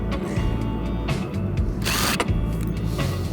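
A power drill driving a screw while installing a hot tub whirs in short bursts with a harsh higher-pitched grinding spurt midway, close and loud, no talking.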